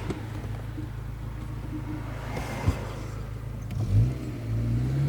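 A car engine idles and hums steadily while the driver shifts into reverse, a low continuous drone with a brief thump and a rising whine of revs near the end; no speech.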